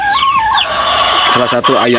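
Merawang chickens, a native Indonesian village breed, cluck and call close by in a steady stream of bird sounds, with a few voices talking underneath.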